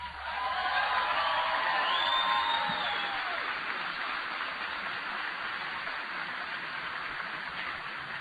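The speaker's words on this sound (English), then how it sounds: "Give them a big round of applause." A large crowd at an American political speech applauds and cheers in a dense, sustained wash of clapping and whoops that swells early and then holds steady.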